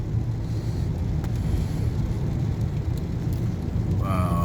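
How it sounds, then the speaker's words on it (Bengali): Rain falls steadily in a cloudy high mountain area, a dense, even wash of hiss and patter that stays loud and constant throughout, with no voices over it. "বৃষ্টি হচ্ছে লিটারালি মেঘ হয়তো আমার মেঘের মধ্যেই আসছি"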